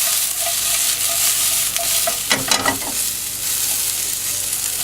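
Pork marsala with mushrooms, onions and broth being stirred and tossed in a frying pan, a continuous sizzle with a short cluster of scraping, clattering tosses midway, no talking.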